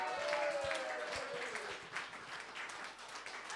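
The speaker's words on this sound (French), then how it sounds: "On lui donne une bonne main d'applaudissement quand même!" A theatre audience applauds at a live comedy show, with scattered claps fading from a moderate burst, while a voice briefly sounds over them at the start.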